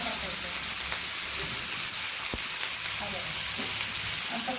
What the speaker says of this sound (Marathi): आता कांदा टाकायचा आणि कांदा आणि मिरची भाजून द्यायची